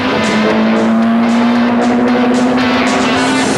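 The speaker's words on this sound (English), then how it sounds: "world-class competitors racing against each other on the dual dirt tracks at Langley Park" Rally cars racing on the dual dirt tracks at Langley Park during Rally Australia 1994: a loud, steady engine roar with a sustained high rev held throughout, close and continuous, with no voices.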